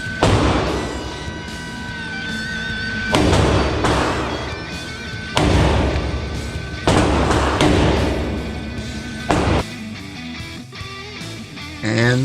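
An IAI AutoMag III pistol fires several loud, sharp shots spaced a couple of seconds apart at a shooting range, each leaving a booming echo that rings out before the next one.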